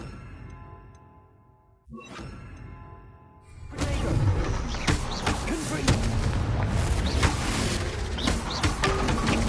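The Bombarda blasting spell goes off in Hogwarts Legacy: a quieter stretch broken by a sharp crack, then heavy booming explosions and crackling debris that build into a loud, sustained barrage.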